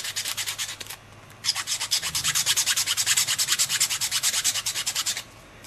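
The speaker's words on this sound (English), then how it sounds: "you can sand it down with the sander" Sander rubbing across small wooden fingerboard ribs, a loud rhythmic scratchy back-and-forth stroke repeated many times after a short pause, close and without talk.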